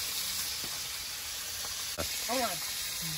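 Steady hiss of tilapia frying in oil throughout, broken by a faint clank and a short wavering voice sound near the end.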